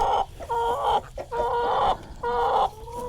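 Hens cluck close by near a nesting box in three drawn-out, rising squawking calls separated by short pauses, with no talk.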